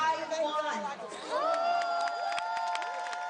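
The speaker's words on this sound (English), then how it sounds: "the crowd burst into cheers and applause" Crowd cheering and applauding as a group of young students from Taiwan step onto a stage for a sign-language song performance, with shouts and whistles rising loudly over steady clapping.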